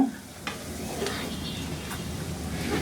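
A steady close sizzle of frying in a pan, with a few light stirring scrapes.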